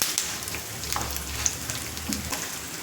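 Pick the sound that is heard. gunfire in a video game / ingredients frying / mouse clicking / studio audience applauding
ingredients frying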